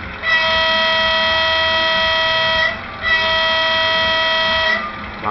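An HO scale Mehano G2000 model locomotive sounds its electronic horn in two sustained, steady blasts separated by a brief gap, loud and close with no talking.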